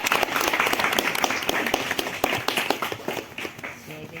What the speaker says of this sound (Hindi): अरे ताली बजा दे